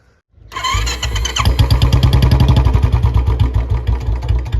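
A Royal Enfield Bullet 350 motorcycle with a short bottle silencer and C-bend pipe cranks and starts, then settles into a loud, throaty, rapid-pulsing idle up close, with a harsh exhaust rasp.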